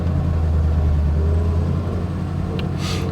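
An old Flathead Ford car idles with a loud, steady low engine rumble while its brakes are tested with the clutch in, and a brief higher squeak or hiss comes near the end.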